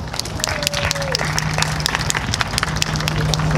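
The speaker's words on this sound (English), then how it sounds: "A round of applause, please." An audience at a Relay for Life opening event claps in sustained, dense applause from start to finish, with a faint voice and hum underneath.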